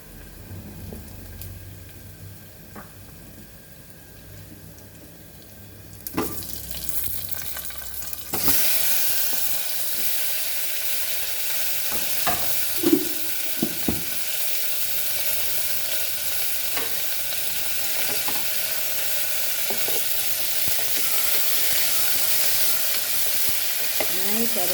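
Onion and tomatoes frying in coconut oil for a drumstick potato sambar, quiet at first, then a loud steady sizzle starts as they hit the pan and holds, with occasional stirring clinks.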